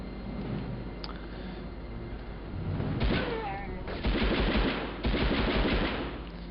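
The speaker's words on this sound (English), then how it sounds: "Okay, machine gun now." Machine gun fire in the PS1 game Medal of Honor, with several rapid rattling bursts at close range that start and stop. Low-fidelity game sound and ambience run underneath.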